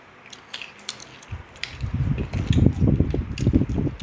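Crunchy food bitten and chewed up close, a few crisp clicks at first, then a dense run of loud crunching chews that continues to the end.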